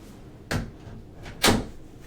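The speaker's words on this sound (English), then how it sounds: "Let me shut this door." A room door pushed shut indoors, two sharp knocks about a second apart, the second louder, like the door thudding and then latching, with quiet room tone between.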